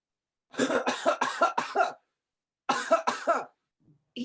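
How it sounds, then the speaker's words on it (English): A man coughs hard in two bursts, a rapid run of four or five harsh coughs followed by a pause and then three more, with a faint throat sound trailing at the end. "He coughed."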